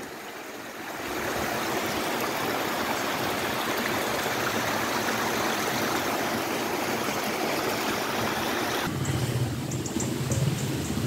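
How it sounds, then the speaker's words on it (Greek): The small Gkoura stream near Anthiro, running with little water, gives a steady, close rushing and trickling wash that holds even throughout, shifting slightly in tone near the end. "Το ρέμα της Γκούρας εδώ με το λιγοστό νεράκι."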